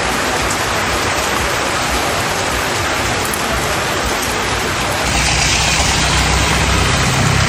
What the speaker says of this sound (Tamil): கொடைக்கானலில் பெய்த கோடை மழை